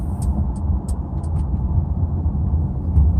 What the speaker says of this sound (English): getting on the highway, accelerating to 70